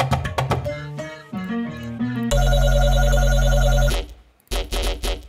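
A ringtone plays as a sample in a crowdsourced beat, with a bouncy synthetic melody of short pitched blips followed by a long buzzy sustained tone, a brief dropout, and the pattern resuming, loud and electronic.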